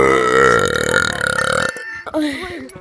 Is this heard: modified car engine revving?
no